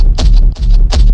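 A raw trap kick drum sample pitched down nine semitones, three deep, heavy thumps close together, loud and close with a boomy low end and a bright attack on each hit.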